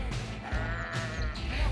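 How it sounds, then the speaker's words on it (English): Sheep stranded outside their fence in rural Norway, bleating repeatedly in short, urgent calls close by, over a steady low rumble. "Some sheep wandered outside their fence and were desperately looking for a way back in."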